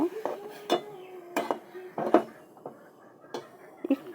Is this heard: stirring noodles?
yes